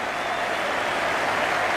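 Dense, steady applause from a huge crowd of over 87,000 at the Melbourne Cricket Ground during the 1992 Cricket World Cup final, England against Pakistan, a continuous wash of clapping with no gaps.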